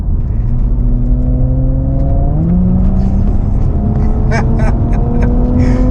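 An Audi S4 B9 sedan accelerates hard, its engine droning loud from inside the cabin and climbing in pitch through a gear change, with a brief excited voice near the end.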